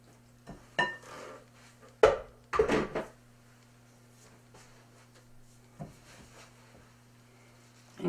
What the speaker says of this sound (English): Now I'm going to put the butter sugar mixture in.